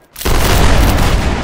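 Line infantry in the Mount and Blade Warband video game fire a musket volley: a sudden, loud, sustained roar of many shots merging into one booming wall of gunfire.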